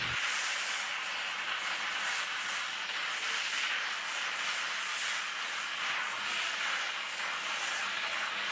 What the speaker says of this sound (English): The worker heats the metal and bends it according to the template.